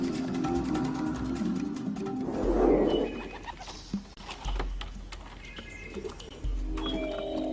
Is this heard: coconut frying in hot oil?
no